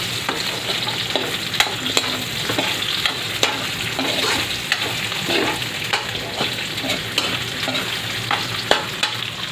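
Pancit miki bihon with chorizo, kikiam and squid balls is stir-fried in a pan, giving a steady close sizzle broken by repeated scraping and clacking stirs at an irregular rhythm, with no talking.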